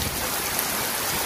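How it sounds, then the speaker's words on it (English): Rain falls steadily in a dense, even hiss, loud and close, with no voices over it. "So fucking rainy."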